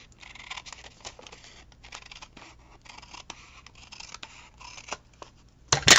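Large scissors snip through paper in a series of quiet, irregular cuts and rustles while journal ephemera is made, ending in a louder crinkling burst.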